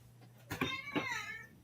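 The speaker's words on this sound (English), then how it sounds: "He's in the background. He's meowing." A domestic cat meows twice in the background, two short rising calls that are faint and distant, with low room hum underneath.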